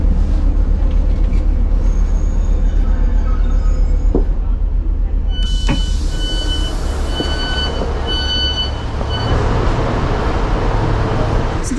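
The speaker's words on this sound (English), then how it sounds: "This number 404 bus that I'm getting from Pontypridd to the hospital is apparently hourly" Interior of the number 404 bus running from Pontypridd to the hospital, a steady engine rumble and road noise with intermittent electronic beeps and clunks, and voices talking in the background.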